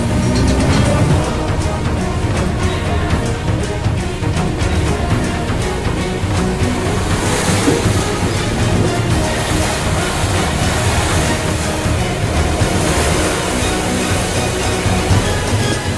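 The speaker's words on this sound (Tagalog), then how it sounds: "Grabe, lakas ng masyadong bagyo." Typhoon wind roars continuously and loudly, with broadband rushing gusts and rattling debris that never let up, and no clear voices over the storm.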